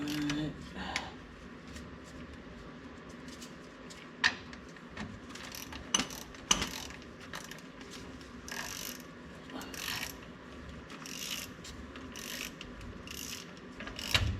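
A ratchet tightens ten bolts in a star pattern to 35 foot-pounds on a 1970 Ford F250 dually, giving repeated clicking runs and sharp clacks at moderate level over faint background noise.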